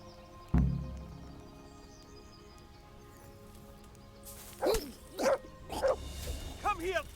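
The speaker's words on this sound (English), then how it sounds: "God damn you, stupid dog." Dog in the video game Kingdom Come Deliverance barking and yipping in a quick series of sharp calls near the end, after an earlier thump, with a voice talking.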